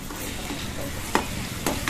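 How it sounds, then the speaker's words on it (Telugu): Prawns fry in a tempering of hot oil, making a soft continuous sizzle with a few sharp stirring scrapes near the end, close and steady. "ఈ పోపులోనే రొయ్యలు కూడా వేసి వేపేస్తున్నాను."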